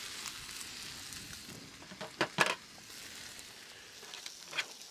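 A steak sears in a hot pan over a LavaBox portable campfire outdoors, giving a soft, steady sizzle with scattered sharper crackles and pops close by, and no talking.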